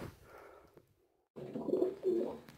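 Domestic pigeons coo in a coop, one white pigeon among them sitting on its eggs; soft low cooing and rustling, then a short near-silent pause before two louder, close, drawn-out coos.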